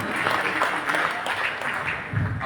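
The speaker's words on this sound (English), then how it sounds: "Can we have a round of applause for him" A conference audience at a direct taxes professionals' annual event breaks into applause, a dense wash of many hands clapping that holds fairly evenly and close.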